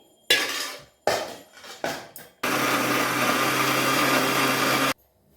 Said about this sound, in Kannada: ಟೊಮೆಟೊ ಹಾಕ್ಬಿಟ್ಟು ಮತ್ತೆ ಮಿಕ್ಸರ್ ಮಾಡ್ತಾ ಇದ್ದೀನಿ